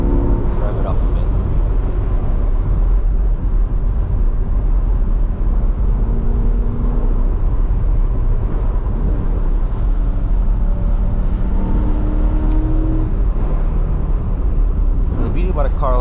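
A 2022 Corvette C8R Edition Z51 with the Z51 package, its engine droning and revving from inside the cabin on a twisty road, heard steadily under continuous talking.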